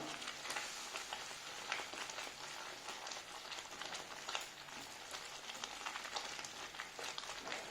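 A semolina dessert mixture being stirred in a pan over the flame, giving a steady, close sizzling scrape that carries on unbroken throughout, with no voices.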